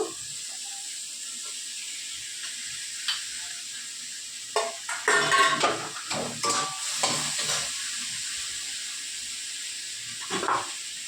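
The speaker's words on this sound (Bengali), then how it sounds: "মাংসটা ভাজা ভাজা হয়ে গেছে" Meat marinated in ginger paste, garlic paste, soy sauce, salt, turmeric and oil frying in a pan, with a steady sizzle and bursts of scraping stirring in the middle and again near the end.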